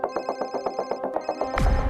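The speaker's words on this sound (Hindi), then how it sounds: "कोई नहीं उठाएगा आज फोन।" A telephone rings in a fast, repeated electronic trill for over a second and a half, then breaks off into a loud, low thud.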